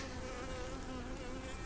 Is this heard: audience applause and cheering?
no